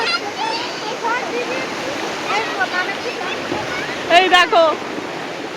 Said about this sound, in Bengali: ঢেউগুলো এখন মোটামুটি ভালোই লাগছে